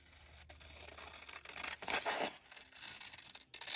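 Scissors cut around the paper border of a patchwork tag, a soft, quiet run of crisp snipping and paper rustling, close up and alone.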